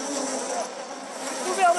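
Stinging bees swarm all around in the Amazon jungle, giving a continuous close buzzing drone that holds at a steady level and swells slightly near the end.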